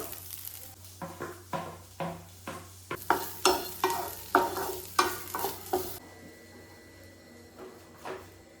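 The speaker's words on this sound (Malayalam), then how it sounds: "നമുക്ക് ജസ്റ്റ് ഒന്ന് ഇളക്കി നോക്കാം." Food, likely chicken, is stirred in a hot frying pan in a rhythmic run of close scraping strokes over a steady sizzle. The stirring stops partway through, leaving only the quieter frying hiss.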